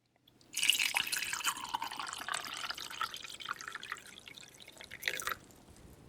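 Water pours steadily from a kettle into a vessel for several seconds, a bright continuous splashing pour that tapers off near the end, close by with no talking.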